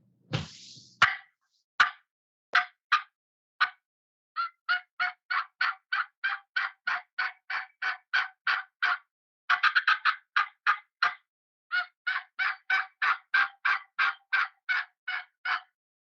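A hand-operated turkey mouth call imitates a wild turkey's gobble, with a long run of rapid, raspy, evenly spaced yelping notes arriving in bursts and brief pauses, loud and close with no talk.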